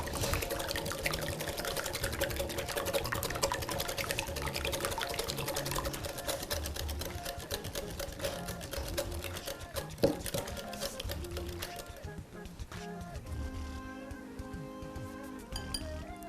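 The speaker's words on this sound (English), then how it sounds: "whisk it for a minute or two until it's foamy, just like an omelette." Eggs seasoned with salt and black pepper whisked briskly in a bowl until foamy, a fast, quiet, rhythmic clatter of whisk against the sides that eases off near the end.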